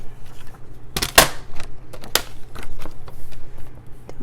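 A hole punch snaps sharply through planner pages in a couple of loud, crisp clunks close by, followed by softer paper rustles and a later single punch.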